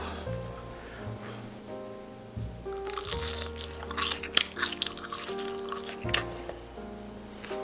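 Crunchy chewing of crispy fried pork, a few sharp bites rising over steady background music.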